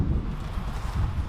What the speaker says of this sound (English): I can't tell if you can hear me or not though, because it is quite windy.